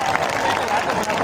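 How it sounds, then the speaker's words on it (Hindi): An audience at a poetry recital, a kavi sammelan at Albert Hall in Jaipur, breaks into loud, dense applause, a continuous wash of clapping lasting just over a second. "एक बार जोरदार तालियां"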